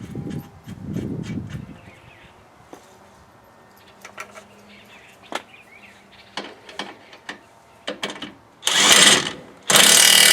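On the rear axle of a Polaris General, a castle nut is tightened with a hand tool, a run of separate close ratcheting clicks and metallic taps, followed by two loud bursts of hissing noise at the end.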